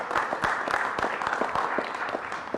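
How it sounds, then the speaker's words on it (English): Applause rises from a crowd at a political endorsement event, a steady patter of many hands clapping at moderate volume, with no speech over it. "Applause."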